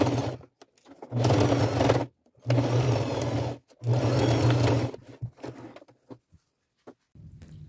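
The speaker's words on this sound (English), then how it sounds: "I'm going to go to my machine and I'm just going to make a straight stitch right across that line that I made" A sewing machine runs a straight stitch across a marked fabric corner in three loud, steady bursts of about a second each, separated by short pauses, followed by quieter handling clicks.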